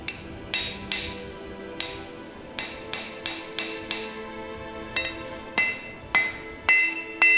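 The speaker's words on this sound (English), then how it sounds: "The flange I'm forging here is meant to secure the handle on the outside so that it does not move through the hole" A blacksmith's hammer forges a metal flange for a door latch with a steady series of sharp, ringing metallic strikes, close and alone, each blow decaying with a bright clink.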